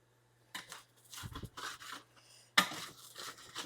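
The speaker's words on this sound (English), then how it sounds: "I'm gonna move the French fries around." Homemade French fries pushed around a pan with a utensil, giving a few close scraping and clattering bursts with short pauses between, and one sharp knock partway through.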